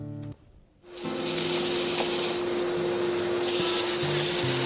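Steady, loud abrasive rubbing and hissing of power sanding on a wooden bow handle being profiled, running continuously after a brief pause, with a constant motor hum underneath.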